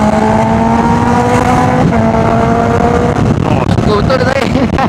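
Honda CBR650R motorcycle engine revving and pulling hard, a loud close whine that climbs and shifts pitch while a rider talks over it.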